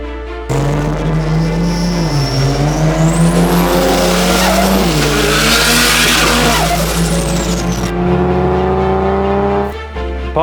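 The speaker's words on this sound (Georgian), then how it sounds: "და დღეს გადავწყვიტეთ, რომ 3 ავტომობილი მოგვიყვანა დრაგზე." Loud, close engines roar and rev at a drag race featuring a BMW 125, with rising and falling pitch as gears shift, tires squealing, and a car sweeping past over about ten seconds.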